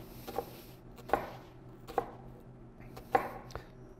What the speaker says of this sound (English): you then simply run your knife vertically through the onion